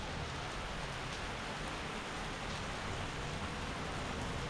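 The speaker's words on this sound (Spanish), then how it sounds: "pues ya se puso a llover" Steady heavy rain pours down during a storm in Playa del Carmen, a dense, unbroken hiss on surfaces that stays constant and fairly loud throughout, with no voices.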